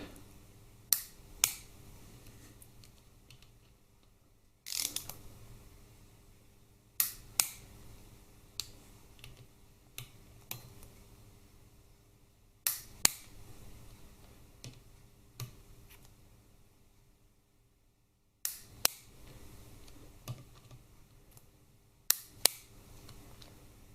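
A torque wrench clicks while tightening oil pump bolts on a Harley-Davidson Twin Cam 88ci engine, sharp isolated clicks, often in quick pairs, spaced by pauses of a few seconds in a quiet workshop.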